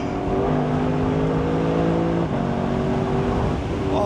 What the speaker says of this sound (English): that powerful V8 engine roaring out the back